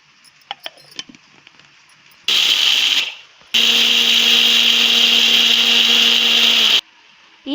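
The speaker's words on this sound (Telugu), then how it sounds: "ముందుగా పెసరపప్పు మిక్సీ వేసి పౌడర్ చేద్దాం." A kitchen mixer grinder grinds moong dal into powder: a loud, steady motor whine in two bursts, a short one and then a longer one, with clicks and handling noise before them and a brief pause between runs.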